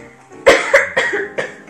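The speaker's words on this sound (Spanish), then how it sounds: "Tengo mucha tos y dolor de cabeza." A person with a bad cough and headache lets out a series of four or five close, loud coughs in quick uneven succession.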